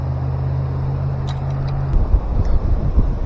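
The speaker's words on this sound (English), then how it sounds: "Wind's picking up." Wind buffets a microphone on the water during a smallmouth bass fishing outing: a low steady rumble gives way to stronger, uneven gusts near the end, with no speech.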